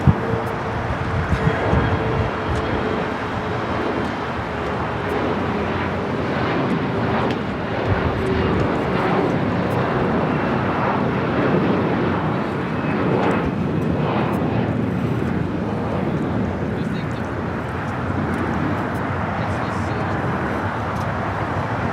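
An airliner taking off at Los Angeles airport, its jet engines roaring steadily and broadly for a long stretch, heard from a distance.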